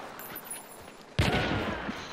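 A burst of rapid gunfire in a video game, a sudden loud volley that starts partway through and then decays, close and alone with no talk.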